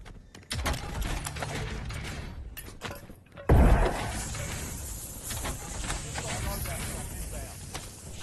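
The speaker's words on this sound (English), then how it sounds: "Changing mags" Magazine change in Warzone, a video game: mechanical clicks and clacks of a reload, with a loud thud midway, heard under steady game noise and a voice talking.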